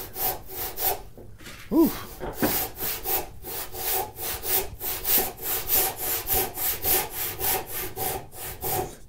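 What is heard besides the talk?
handsaw cutting mahogany wood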